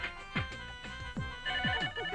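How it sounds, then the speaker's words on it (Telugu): A telephone in a Telugu film rings repeatedly, each short rising electronic chirp following the last in a quick, regular rhythm, moderately loud and clear with no talk. "టెలిఫోన్ ఎంతసేపటి నుంచి రింగ్ అవుతుంది?"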